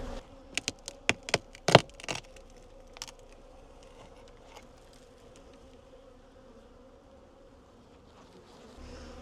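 Honey bees hum faintly around old dark comb in a 12-year-old hive under removal, a low steady drone close by, with several sharp cracks and taps of handling at the start.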